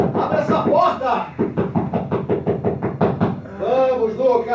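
Insistent knocking on a door at night: a brief shout first, then a quick run of about ten hard, close raps, followed by more loud calling from a man outside.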